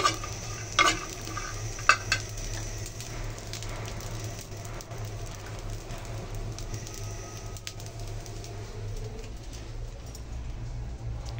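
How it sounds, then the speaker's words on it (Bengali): Loitta dried fish sizzles in hot oil in a home kitchen, a low steady frying hiss with faint stirring scrapes, a few sharper clinks near the start, with a continuous hum underneath. "আর এদিকে হচ্ছে লইট্টা শুটকি তেলে নিতেছি"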